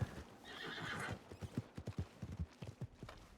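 A horse in Red Dead Redemption 2 gives a whinnying neigh, then hooves clip-clop in a steady walking rhythm, faint and with no talk over them.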